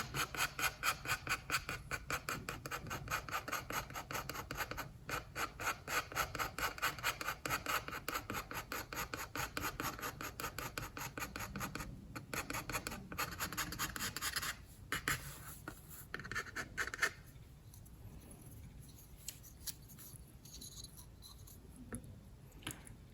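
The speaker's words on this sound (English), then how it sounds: "And now I'm kind of tipping my point so I can scrape at this this corner edge" A metal scraper rasps over a mezzotint printing plate, giving rapid rhythmic scratching strokes that are steady and close for about fifteen seconds, then thin into softer, sparser scrapes.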